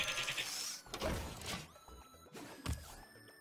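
Explosive Sheep in a video game bleat in short, wavering cries, quiet against a backdrop of game clatter and crashes, with a bright tonal ring sustaining partway through.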